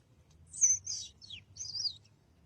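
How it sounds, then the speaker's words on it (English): Birds chirp outdoors on a spring day, a few bright, quick calls and short warbling phrases at moderate distance over a low, steady background hum. "The birds are chirping."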